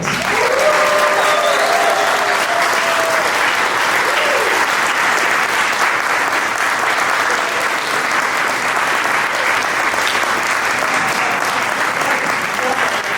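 Wedding guests applaud and cheer just after the couple are pronounced husband and wife, a dense, sustained clapping that fills the whole stretch, with a few voices rising above it.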